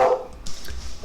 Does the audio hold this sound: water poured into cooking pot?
no